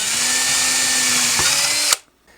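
A power drill bores a hole down through a fret slot in a custom Telecaster guitar neck, a loud steady whine that cuts off abruptly near the end, followed by near silence.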